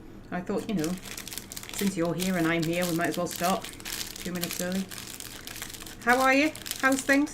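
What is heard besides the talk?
rustling of a Gigster's sausage roll packet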